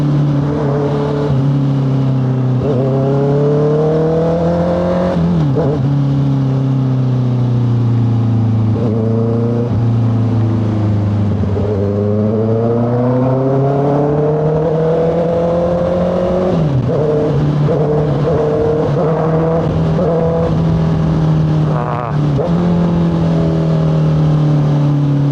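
A BMW motorcycle engine revs loudly nearby, its pitch rising and falling through repeated downshifts with rev-matching blips over about twenty-five seconds, and no talking.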